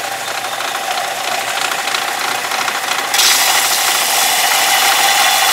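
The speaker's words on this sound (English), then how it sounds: "The belt sander makes it pretty quick" Loud, steady abrasive grinding of a belt sander rounding the edge of an acrylic sheet, continuous throughout and growing brighter and harsher midway.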